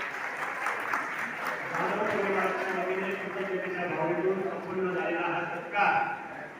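An audience claps continuously at a village retirement ceremony honouring a gram sevak, with a voice talking over the even wash of applause throughout.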